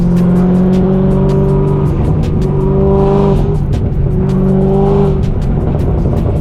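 A 2020 Duramax truck engine revs loudly and close in repeated rising surges, with sharp popping crackles between the pulls, and no talking.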